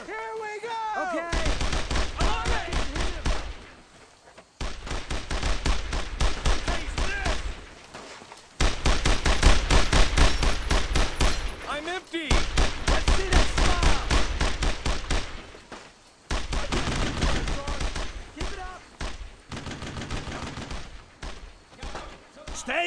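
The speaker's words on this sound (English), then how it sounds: "Incoming fire! Fire on that position!" Dense gunfire from World War II weapons in the video game Brothers in Arms: Road to Hill 30, with loud rapid bursts and single shots overlapping for long stretches and only brief lulls, under shouted squad commands.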